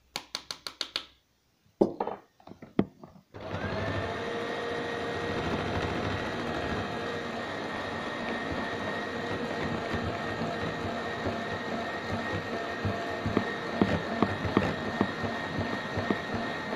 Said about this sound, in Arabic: السرعه ديال الخلاط فانا دايرها منخفضه شويه